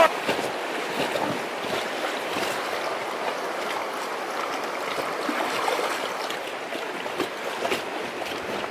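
Standing waves on the Noatak river make a steady rushing churn of whitewater, with splashy bursts and wind noise throughout and no one talking.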